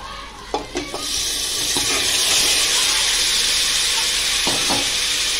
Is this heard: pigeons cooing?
no